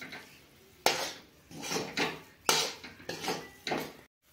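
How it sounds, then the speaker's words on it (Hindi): Makhana roasting in a pan on medium flame is stirred with a utensil, giving a series of about six scraping, rattling strokes against the pan, close and clear, ending in a brief silence. "इसी तरह मैं मीडियम आंच पर धीरे धीरे भून लूंगी।"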